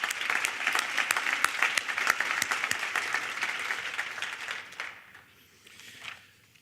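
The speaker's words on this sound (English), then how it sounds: "How about a round of applause?" An audience at a chamber of commerce breakfast forum applauds in a dense, loud burst of clapping that holds steady for several seconds, then thins and fades to a few scattered claps.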